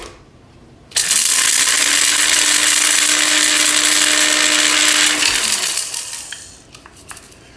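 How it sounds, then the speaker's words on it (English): A bullet blender crushes dried guajillo and ancho peppers with peppercorns and spices in one loud, close, whirring grind that lasts about four seconds before spinning down, with a few rattles and clicks afterward. "we'll see if we can crush these with the bullet before we get started here"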